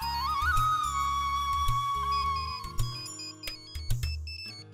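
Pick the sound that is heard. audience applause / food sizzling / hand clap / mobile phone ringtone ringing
mobile phone ringtone ringing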